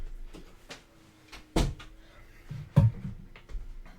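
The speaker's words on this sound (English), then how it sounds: "I'm just going to shut my door" A room door shut by hand at the start of a live fitness chat, heard as a few scattered soft knocks and one firm thump midway, followed by another solid bump, all close and without talk.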